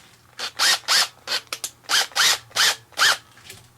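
A drill chuck being tightened down on wires, a run of about ten short whirring ratchet bursts in quick succession, close and loud, with no talk.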